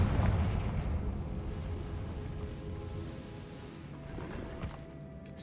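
A Confringo fire blast spell bursts in Hogwarts Legacy, a loud explosive boom at the start that rumbles and fades over several seconds, with faint magical crackle and a small pop near the end.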